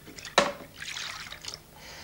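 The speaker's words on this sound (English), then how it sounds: "into this saucepan, we're putting equal quantities of milk and cream" Milk and cream poured into a saucepan for panna cotta, a short clear splash followed by a soft, brief gurgling pour.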